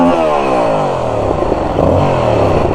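A 2022 Yamaha R7 twin-cylinder motorcycle engine revs up and holds a raspy, buzzing note, loud and close, with no talking.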